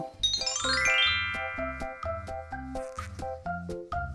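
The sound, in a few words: magical bell chime sound effect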